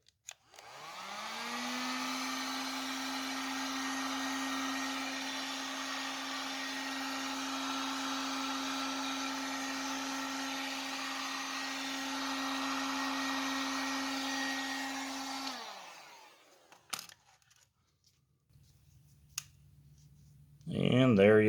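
A heat gun shrinks heat-shrink tubing on homemade battery cables, blowing a loud, steady roar for about fifteen seconds before cutting off, followed by a few clicks and a low hum.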